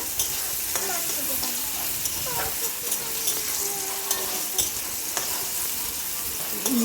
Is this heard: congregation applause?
no